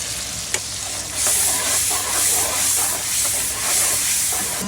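Ginger, garlic, turmeric, chili, coriander and cumin frying in hot oil give a steady close sizzle and hiss, with stirring scrapes pulsing through it.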